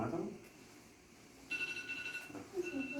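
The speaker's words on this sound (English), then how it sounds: "Is that my phone?" A phone rings with a short electronic tone in a room where people are talking, two brief bursts of a steady ringtone heard faintly under the conversation.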